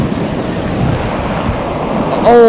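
Sea swell and waves wash around a fishing boat, a constant loud roar of water mixed with wind buffeting the microphone, ending with a brief high-pitched tonal whine.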